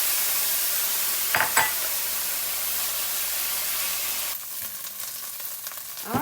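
Chopped red onions sizzle steadily in a little oil in a pan, a continuous close frying hiss with brief stirring scrapes, the sizzle dropping noticeably quieter toward the end.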